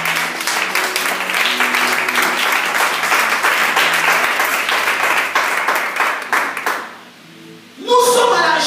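A church congregation claps and applauds in a dense, loud, continuous wash of hands that briefly dips before swelling again at the end.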